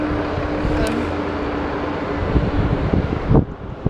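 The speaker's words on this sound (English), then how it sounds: "Wow, those lorries are loud." Loud, continuous low rumble of lorries rolling past nearby in Folkestone, with a steady engine hum and a sharper surge near the end.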